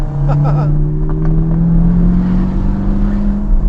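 Chevrolet C8 Corvette engine with its Tremac dual-clutch transmission, a loud sustained engine drone with a few quick popping bursts near the start, steady and close throughout.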